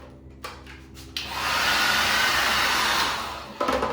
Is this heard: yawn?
no